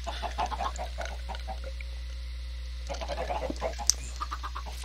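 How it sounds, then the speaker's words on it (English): Chickens clucking in a Minecraft Skyblock world, a few birds giving short, repeated clucks at close range over steady low background game noise, with a quieter gap midway before the clucking resumes. "Get a couple extra chickens."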